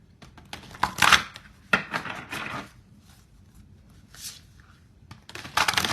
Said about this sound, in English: So I'm going to shuffle. This is going to be my main deck, but I'm going to also add these other cards.